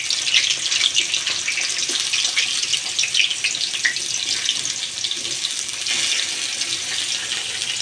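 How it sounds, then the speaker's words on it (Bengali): Pumpkin slices sizzle steadily in hot oil as they are turned in the pan, a dense, continuous crackling hiss with no pauses. "কুমড়াগুলো উল্টিয়ে পাল্টিয়ে ভেজে নিচ্ছি।"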